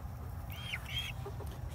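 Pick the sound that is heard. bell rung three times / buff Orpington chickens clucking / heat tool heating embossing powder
buff Orpington chickens clucking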